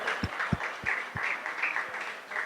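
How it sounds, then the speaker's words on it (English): Audience at the CannaGather New York cannabis event giving a round of applause, a moderate, steady patter of clapping with a few low thumps early on. "Round of applause."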